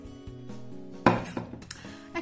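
Baking tray of duchess potatoes pushed into an oven, a sharp metallic clank followed by a few lighter rattles and clinks, close and without talking.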